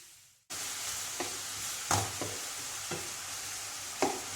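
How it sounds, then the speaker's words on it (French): Onions sweat in oil in a frying pan for a Moroccan whiting tajine, giving a steady close sizzle with a few sharp scraping stirs. "Je vais suer un peu les oignons."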